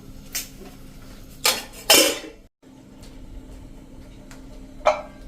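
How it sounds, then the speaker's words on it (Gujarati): A few clanks of metal cookware, a pot set down into a cooker and a plate placed over it, with short pauses between the knocks. "આ રીતે આપણે આ તપેલીને કુકરમાં મૂકી દેશું અને ઉપરથી એક પ્લેટ ઢાંકી દેશું"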